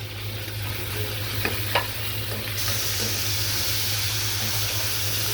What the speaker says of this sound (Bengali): আমি লাল শাক ভাজির জন্য মশলাগুলো কষিয়ে নিব